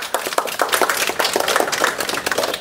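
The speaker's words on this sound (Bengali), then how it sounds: "জোরে হাততালি।" Audience applause at an Independence Day celebration event, a dense steady wash of many hands clapping loudly throughout, with no speech over it.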